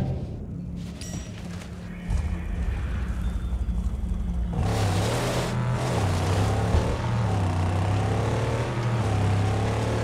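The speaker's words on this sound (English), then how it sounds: "Rev it up and go, Saint." A loud buggy engine drones and revs steadily in Mad Max, a low rumbling motor that grows fuller and stronger partway through, with no voices.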